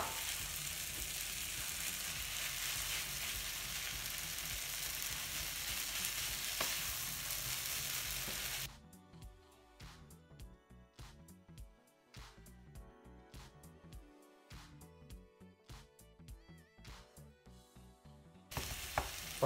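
Ground beef frying in a pan with peppers, onions and tomato, first a loud steady sizzle, then quieter crackling broken by the repeated scrape and tap of a utensil stirring, with the full sizzle returning at the end.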